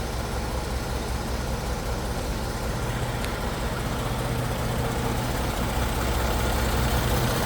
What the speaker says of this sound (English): There it is, running driving project, 1930 Chevrolet 3-window coupe.